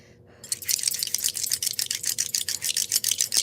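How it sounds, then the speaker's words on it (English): Knuckle bones being shaken and cast for a divination reading, a rapid run of dry clattering rattles after a brief quiet start, close and fairly loud, with no speech. "We're going to go to the knuckle bones with that."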